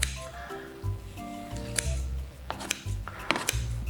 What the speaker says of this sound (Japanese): 4カットするんで、ハサミでこう4カットします。